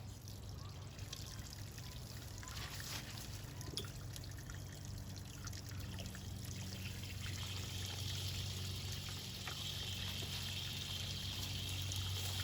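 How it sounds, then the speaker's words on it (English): Water runs steadily out of a rain barrel in an off-grid garden being cleared before winter, a continuous close pour and trickle that holds even throughout and grows a little fuller near the end. "it gets pretty good water coming out of it"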